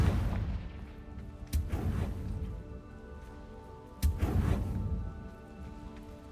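Two booming blasts from the Confringo fire spell in the Hogwarts Legacy video game, each a sharp explosive crack with a rumbling tail, spaced a few seconds apart over a low game-ambience bed.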